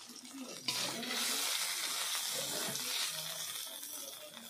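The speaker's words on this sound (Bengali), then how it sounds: "অল্প পরিমাণ জল দিয়ে মশলাটা ভালোভাবে কষিয়ে নেব।" Salt, turmeric and chili powder being stirred with a little water in a pan, a soft sizzling hiss with light scraping that comes up after a small splash and carries on quietly with no talk.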